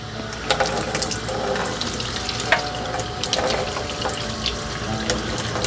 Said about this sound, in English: Just going to keep running it underwater.